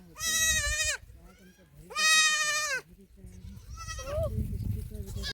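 Goats bleat loudly and nearby in two long, wavering calls, followed by a third shakier bleat, with low rumbling background noise between them.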